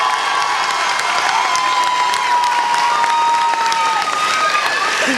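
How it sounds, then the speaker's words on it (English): Commencement crowd applauding and cheering for the graduating class of 2015, a steady dense wash of clapping with shouts and whoops throughout. "let us applaud the accomplishments of this entire wonderful class of"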